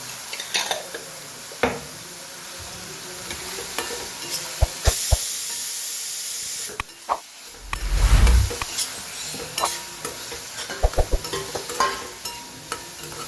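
Onions and tomatoes sauté in a pan with turmeric and salt, a low sizzle broken by a spoon scraping and clinking against the pan at irregular moments.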